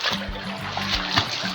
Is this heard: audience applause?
no